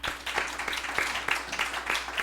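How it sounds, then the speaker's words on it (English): Small audience claps for Steve in a brief, fairly quiet burst of scattered hand claps, evenly spaced and moderately close, with no talking over it. "can you clap for Steve?"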